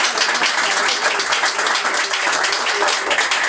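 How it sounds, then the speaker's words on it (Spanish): A church congregation claps for Jesus during a Spanish-language worship service, giving a dense, steady wash of applause that fills the room without a break and stays fairly loud throughout. "Denle un fuerte aplauso a Jesús."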